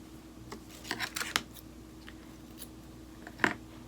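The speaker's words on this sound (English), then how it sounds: "I'm going to go ahead and cut this in half." Scissors cutting a fraying ribbon in half for a Victorian dress form card, giving a few faint, close snips and crisp clicks in a quiet room, with one sharper cut near the end.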